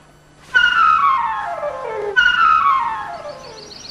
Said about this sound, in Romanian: Vrăjitorii folosesc acest fluier pentru a atrage spiritele.